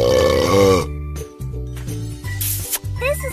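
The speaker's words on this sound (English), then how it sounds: "Help Emma burp." A cartoon character in a kids' video game lets out a short burp, set against bright chiming game music and small jingles.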